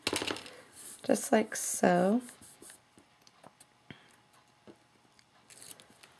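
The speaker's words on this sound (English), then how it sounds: "And then we grab my scissors. Let's go ahead and give that a little trimmy trim there." Scissors snip through paper for a crafting project, a few quick crisp cuts close to the microphone while someone talks over them, followed by soft handling noises.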